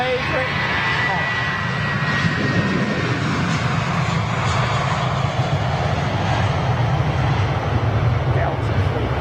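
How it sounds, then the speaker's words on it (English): A Delta Airbus A330 airliner with CF6 engines at London Heathrow produces a continuous, steady engine roar and rumble that is moderately loud and somewhat distant, lasting throughout without a break. "Delta 330 over there. Nice. With the CF6 power plant."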